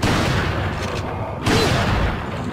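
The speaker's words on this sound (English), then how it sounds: "Heal yourself and throw a grenade!" A grenade going off in the video game Resident Evil 4, a loud, dense blast that fills the whole short stretch with booming, rumbling noise and a second surge partway through.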